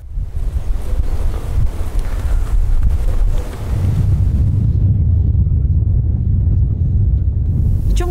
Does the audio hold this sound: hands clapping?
no